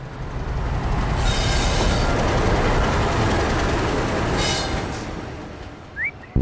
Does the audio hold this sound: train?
yes